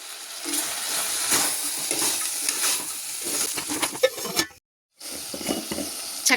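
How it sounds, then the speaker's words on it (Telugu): Chicken pulao is stirred in a pressure cooker, with a steady sizzle and hiss under repeated scraping and clinking from the spoon against the metal pot. The sound cuts out briefly near the end, then resumes. "చక్కగా కలుపుకుందాం."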